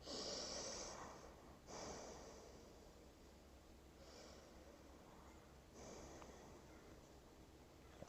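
Deep breathing during a yoga forward fold, slow audible breaths with a soft, hissing airflow, a few spaced inhales and exhales fading quieter, close and alone.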